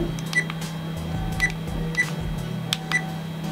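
An EKEN H9 action camera gives several short electronic beeps and clicks spaced about a second apart, close and clear over low background hum.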